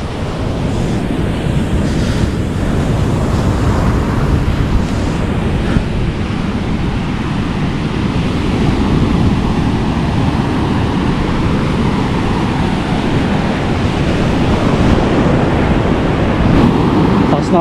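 Heavy ocean surf roars continuously at Blackhead beach in New South Wales, Australia, a dense low rumble of breaking waves mixed with strong wind buffeting the microphone.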